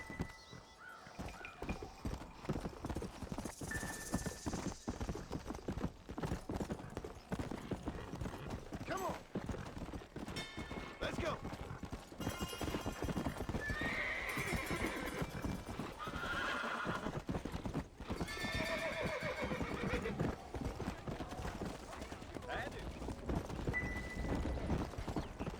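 Hooves clip-clop steadily while a horse neighs and whinnies several times in Red Dead Redemption, a galloping horse heard loud and close under continuous game sound, with someone talking now and then.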